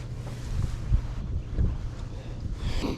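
Strong wind buffeting the microphone on a lake during bass fishing, a steady low rumble with gusts and faint water sounds, no talking.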